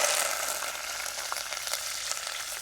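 Curry leaves sizzle in hot oil with mustard seeds for a Maharashtrian dal bati dish, giving a loud, steady frying hiss with a few brief crackling pops throughout.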